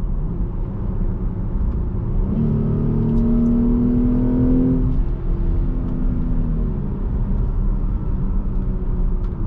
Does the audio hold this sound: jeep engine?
yes